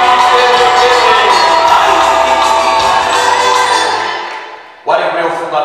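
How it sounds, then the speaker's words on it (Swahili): A Swahili wedding crowd erupts in loud clapping, cheers and high ululating whoops. The noise dies away briefly, then surges back just as strongly. "Makofi na vigelegele."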